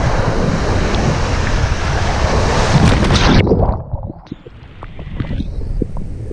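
Big ocean waves break on a beach at San Pancho, Mexico, with a loud, continuous surf roar and heavy wind buffeting the microphone. The roar eases into a lighter wash of water partway through.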